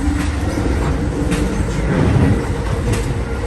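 A fast train running between New York and Philadelphia, heard from onboard as a steady loud rumble with rattling and faint rhythmic track clicks throughout, no talking.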